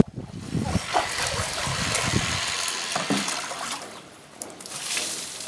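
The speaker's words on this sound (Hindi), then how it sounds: "मैंने सबको पानी दे दिया" Garden plants being watered in a village, a soft, uneven trickle and splash of water with small spattering bursts, fairly quiet and close.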